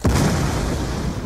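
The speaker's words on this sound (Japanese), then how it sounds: "爆発した" A loud explosion in Call of Duty: Black Ops 2 gives a sharp boom that fades into a sustained low rumble across the whole short moment, with no talking over it.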